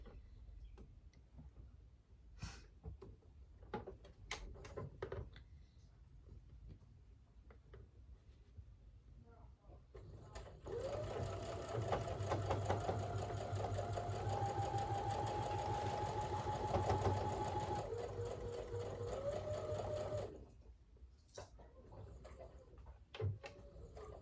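A sewing machine sews two quilt blocks together in one steady run of about ten seconds. The motor whine shifts pitch slightly during the run, with quiet ticks and handling noises before and after, all fairly soft and close.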